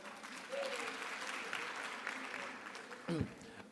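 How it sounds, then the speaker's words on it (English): Audience applause at a FAPSA conference in Nelson Mandela Bay, a steady wash of clapping held at moderate level throughout, with brief speech-like sounds mixed in and a short louder burst near the end. "Can we give them a round of applause, please?"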